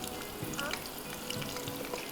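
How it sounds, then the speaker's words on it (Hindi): Onions frying in ghee in a television studio kitchen, a steady moderate sizzle with light stirring scrapes throughout. "मैंने और मज़ीद घी डाला और मज़ीद प्याज डाल के मुझे इसको फ्राई करना है"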